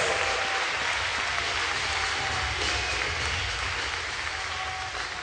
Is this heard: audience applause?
yes